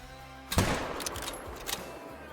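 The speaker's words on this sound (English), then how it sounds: "Get the rifle out, 300 yards." A single loud rifle shot fired at a whitetail buck about 300 yards away while hunting in the Call of the Wild video game, a sharp blast followed by a fading rumble and faint trailing echoes.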